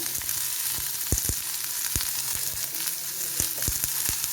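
Sliced onion and garlic sizzle steadily in a hot pan, a constant crackling hiss broken by occasional sharp pops and light stirring clicks, close and alone with no voices.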